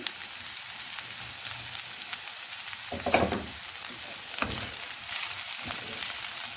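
Spring roll vegetable filling with capsicum frying and being stirred in a pan, a steady close sizzle with a few louder scraping stirs, no talking.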